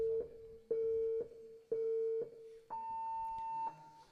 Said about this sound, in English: Listen for that beep.